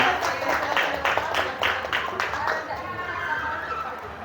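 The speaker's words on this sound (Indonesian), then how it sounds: "tepuk tangan untuk kita semuanya." Applause from an audience at a school gathering, bursts of clapping in the first half that fade into murmuring and chatter, with voices present throughout.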